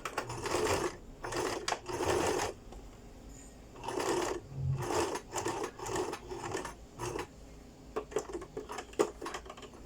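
A sewing machine runs a narrow seam of under half a centimetre around the edge of a piped welt pocket, in repeated loud close bursts of whirring stitching separated by brief pauses.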